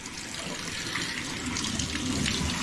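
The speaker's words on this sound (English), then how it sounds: "look, the sink comes on" A sink faucet turned on during a plumbing leak inspection gushes with a steady, loud stream of water splashing into the basin, continuous and unbroken with no voices.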